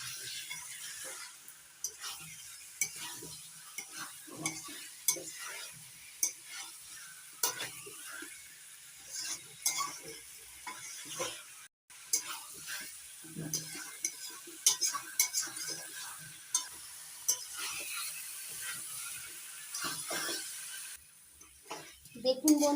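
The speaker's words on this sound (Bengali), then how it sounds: "এবার এঁচোড় আর আলু মশলার সঙ্গে ভালো করে কষিয়ে নিচ্ছি।" Boiled jackfruit and fried potato are stir-fried with spices in a pan, with a low sizzle under frequent uneven scrapes and clinks of a spoon against the metal.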